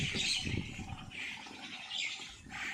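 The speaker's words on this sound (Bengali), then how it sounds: "এখানে অনেক রকমের চড়ুই পাখি আছে, শালিক পাখি আছে, আরও অনেক পাখি আছে।" A flock of sparrows and mynas chirps and twitters together, a busy overlapping chorus of calls heard from a little distance, as a few hundred birds gather in the morning.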